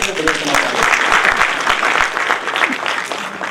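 A lecture audience at a university event on self-reliant India applauds loudly and steadily throughout, a dense wash of many hands clapping together with some crowd noise mixed in.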